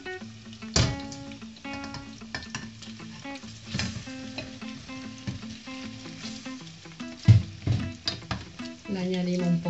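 Chicken pieces frying in olive oil with onion and garlic, a steady close sizzle with stirring clatter and occasional louder scrapes, rising toward the end as the pan gets busier.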